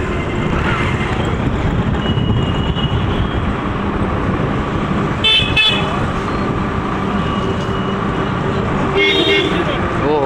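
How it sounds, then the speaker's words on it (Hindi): Congested city traffic jam in Godhra, India, with a steady roar of engines and repeated car horn toots, including brief honks around the middle and near the end, all fairly close and loud. "बहुत बड़ा ट्रैफिक जाम हो गया है"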